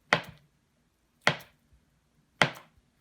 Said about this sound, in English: you could come back across and chop this up and make it into long strands